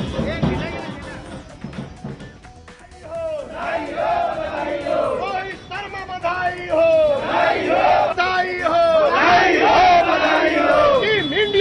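A crowd celebrates India's cricket win over Pakistan with loud chanting and cheering outdoors, voices shouting together in rhythmic bursts that grow louder toward the end.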